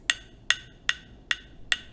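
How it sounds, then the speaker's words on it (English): Slow rain stick tipped so its beads trickle like light rain, giving five separate bright rattling bursts spaced evenly about every 0.4 seconds, close and clear against near silence. "they're called rain sticks."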